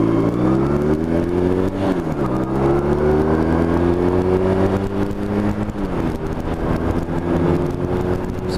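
A motorcycle engine drones loudly and continuously during a ride, its pitch rising through revs and dipping briefly at gear shifts.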